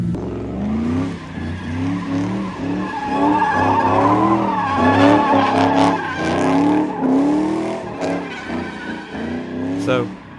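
Stock drift car with fronts at about 35 spinning out repeatedly, revving engine and long tire squeals rising and falling continuously for the whole stretch, loud and close.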